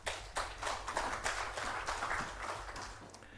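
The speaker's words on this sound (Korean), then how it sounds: "우리 목사님 나오실 때 박수로 환영하겠습니다" A church congregation applauds to welcome the pastor at a worship service, with steady, dense clapping that carries on throughout, fading slightly toward the end.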